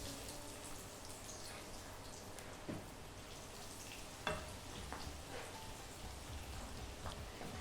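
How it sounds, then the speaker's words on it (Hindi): Raw turmeric frying in a pan until crisp, a steady soft crackling hiss like light rain with a few isolated sharper pops, quiet and continuous with no talking. "हम हल्दी फ्राई करेंगे एकदम क्रिस्प"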